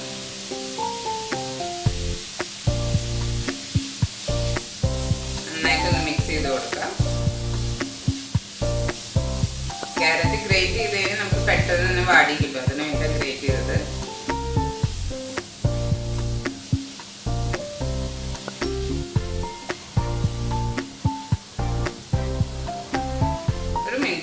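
Grated carrot with cabbage and onion frying in a pan for vegetable momo filling, a loud continuous sizzle broken by frequent clatters and scraping stirs, with voices heard at times over it.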